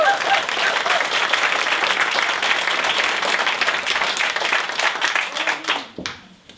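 A showcase audience applauds Linda Valley with loud, sustained clapping and some crowd noise that fades out near the end.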